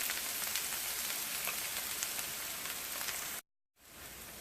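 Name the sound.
onions frying in hot oil in a frying pan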